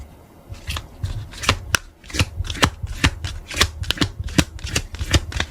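Tarot cards are shuffled close by in quick bursts of crisp riffling snaps, with brief pauses between the shuffles and no talking.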